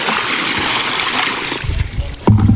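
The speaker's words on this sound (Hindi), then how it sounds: "टूटी से साफ पानी लगाते हैं" Water splashing and trickling as dirty water is emptied from a bucket at a farm tap, a steady rushing wash that turns to brief, louder splashes near the end.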